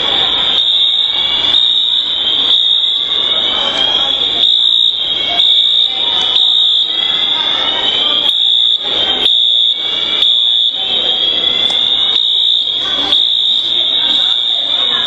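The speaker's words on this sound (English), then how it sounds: "Oh, a different fire alarm." A mall fire alarm sounding continuously: a loud, piercing electronic tone with rapid pulsing strobe-like beats, filling the space throughout, with no let-up.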